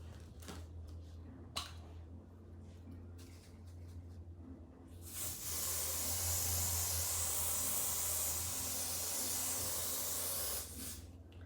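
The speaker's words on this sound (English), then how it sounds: "we're gonna go on with this Glamour Beauty glue spray" A long, steady hiss of a glue spray can being sprayed close by onto a bald wig cap for several seconds, preceded by soft handling clicks and rustles.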